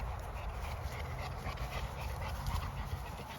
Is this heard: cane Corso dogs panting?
yes